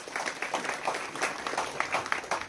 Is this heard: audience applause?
yes